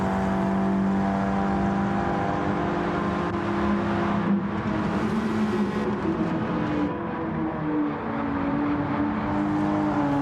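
A race car engine in a racing video game drones and revs steadily at close range, a sustained tonal whine that shifts pitch slightly as the throttle comes back on, with no other sounds over it.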